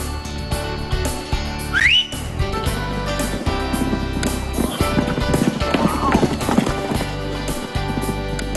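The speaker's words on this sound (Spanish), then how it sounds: "sus relinchos nos ofrecen mucha armonía" Horses in Shunyi clop their hooves steadily on hard ground, with a high whinny-like call rising early on and a busy, close mix of hoofbeats and movement continuing throughout.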